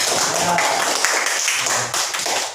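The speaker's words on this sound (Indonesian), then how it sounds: "Untuk kegiatan hari ini kita beri tepuk tangan." Classroom applause from pupils, a steady dense patter of clapping filling the whole moment at close range, with faint voices mixed in.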